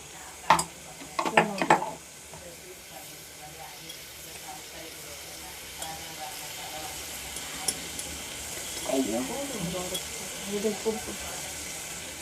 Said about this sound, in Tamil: இப்போ நம்ம சிக்கன் போட்டுக்கலாம்.